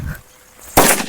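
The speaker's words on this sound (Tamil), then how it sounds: "சரியான வெடிங்க லட்சுமி வெடி" A single sharp Lakshmi Diwali firecracker bang bursts loudly after a brief quiet moment, then trails off.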